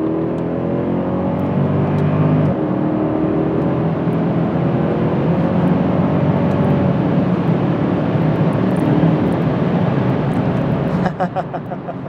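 A Mercedes W211 E63 AMG accelerates hard in third gear after a downshift, heard from inside the cabin as a loud, sustained engine roar whose pitch climbs steadily before easing off near the end.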